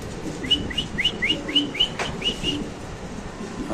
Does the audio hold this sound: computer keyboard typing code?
no